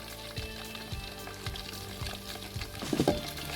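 Chicken pieces fry in hot oil, giving a continuous close sizzle, with regular soft knocks and scrapes as the pieces are stirred and lifted out, and no talking.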